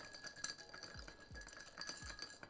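A spoon stirs thick condensed milk into iced coffee in a glass, giving light repeated clinks and scrapes against the glass, fairly quiet, with a few soft low thumps between them and no talking.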